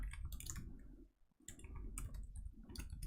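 Quick bursts of computer keyboard typing, close and faint, with clustered key clicks separated by a short pause in the middle.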